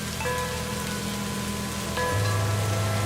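Steady, dense night rain hisses and patters without pause, with a low rumble swelling toward the end and faint tonal rings like a temple bell cutting through the downpour.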